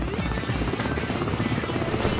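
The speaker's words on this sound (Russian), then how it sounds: "наш вертолет взлетает и берет курс на авиабазу Мачулище" A military helicopter takes off in rain and poor visibility, its rotor thumping in a steady, loud, continuous beat close by, with no other sounds over it.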